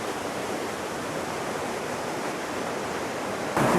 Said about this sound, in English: Pretty noisy, but wow, what an amazing waterfall.